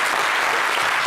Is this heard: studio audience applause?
yes